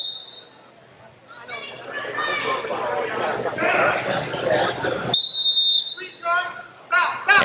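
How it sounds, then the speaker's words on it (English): A referee's whistle shrills at the end of a high school wrestling period in a gym, a sharp piercing blast cutting through an announcer's commentary and crowd noise, with another brief toot right after. "They didn't hear the whistle."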